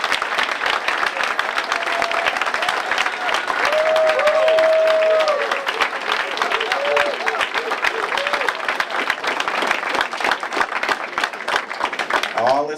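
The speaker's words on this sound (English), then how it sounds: "So please give them a round of applause." Audience applause during a mayor's speech, with sustained crowd clapping and some cheers through the span and a voice cutting in at the close.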